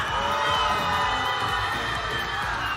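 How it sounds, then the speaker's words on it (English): A crowd at a CS:GO gaming tournament screams and cheers loudly and continuously, a dense wall of voices filling the hall without a break. "I have not heard someone scream like that."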